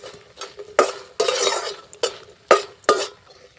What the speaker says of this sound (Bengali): ভেজে নিচ্ছি বড়ি। বড়িটা একটু লাল লাল করে ভেজে নেব।